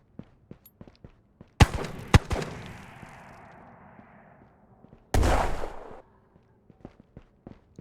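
Two heavy blasts of grenades going off in the multiplayer shooter Ghosts of Tabor, each a sharp bang with a rumbling tail, under scattered light footsteps and clicks.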